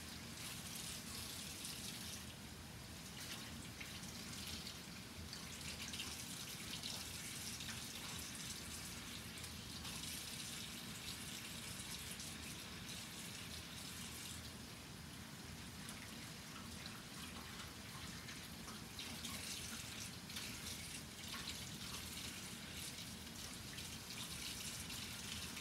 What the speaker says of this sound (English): I'm gonna have to give this a rinse and see what we've got left.